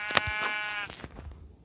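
A sheep in a video game gives one short, nasal bleat up close, followed by faint scuffling game noise and no speech.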